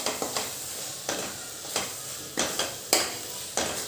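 Sambar masala, red chilli powder, turmeric and garam masala frying in oil for medu vada sambar, a soft sizzle broken by several scraping stirs of a spoon in the pan, close and without talk.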